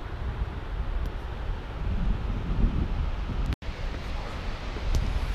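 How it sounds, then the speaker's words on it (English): A waterfall near a glacier roars as a broad, continuous rush of falling water, loud and steady, with wind buffeting the microphone. "Stunning. Waterfall."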